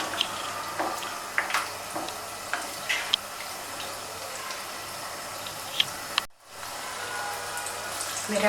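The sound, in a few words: falafel frying in oil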